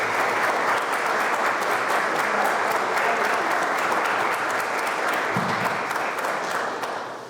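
Sustained applause from an auditorium audience welcoming a guest speaker at Pepperdine, dense clapping holding steady for several seconds before tapering slightly at the end.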